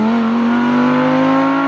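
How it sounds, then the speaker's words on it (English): An Audi R8 sports car's engine holds a loud, steady, high-pitched drone up close for under two seconds, with no voices. "that was some of the sharpest acceleration I've ever felt"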